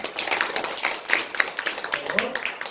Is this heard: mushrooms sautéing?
no